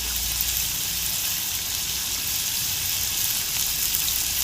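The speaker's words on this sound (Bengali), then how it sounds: "এখন কষায় দিচ্ছি সুন্দর করে কষাইতে হবে" Steady, even sizzle of curry and spices being sautéed in a pan over a clay stove, a dense continuous hiss with no breaks and no talking.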